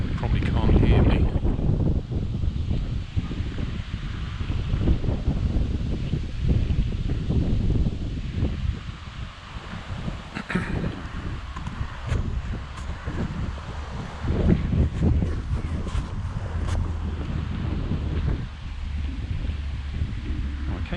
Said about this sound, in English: It's also a bit windy